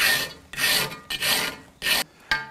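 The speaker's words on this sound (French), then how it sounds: "on va limer en croisant les passes. Première passe ici, deuxième passe croisée." A long metal piece is filed by hand with crossed strokes, giving five loud, close rasping passes in a steady rhythm, each separated by a brief pause, with no talking.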